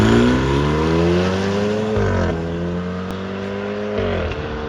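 Two identical BMW F30 cars, one chip-tuned and one stock, racing side by side, loud sustained engine roar with rising revs and abrupt gear-change dips, close and continuous.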